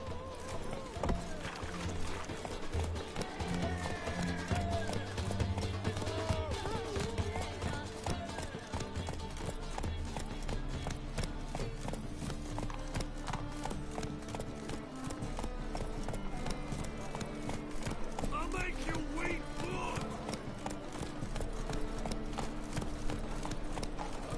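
Roach, a horse in a video game, gallops in steady rapid clip-clop hoofbeats that run continuously and loudly over a dense bed of game music and ambient sound, with the occasional hint of a whinny.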